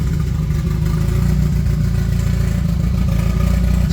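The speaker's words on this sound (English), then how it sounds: "So you guys can hear car sounds nice." A tuned car with a VR6 engine swap runs close by, a loud, steady low engine drone with light clatter throughout, no talk over it.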